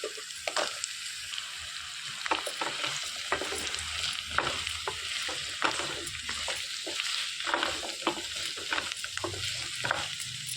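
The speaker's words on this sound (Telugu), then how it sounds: "కట్ చేసి పెట్టుకున్న ములక్కాడలు కూడా ఇందులో వేసేసుకొని ఈ నూనెలో వేయించేసుకోవాలి." Drumstick (moringa) pods frying in oil for a catering-style masala curry, a continuous crackling sizzle with sharp pops and scraping stir strokes, close and without talk.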